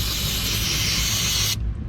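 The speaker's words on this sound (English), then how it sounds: "So guys, just spray this down a little bit." An aerosol can sprays in one continuous loud hiss near the oil filter during a Volkswagen CC oil change, then cuts off abruptly.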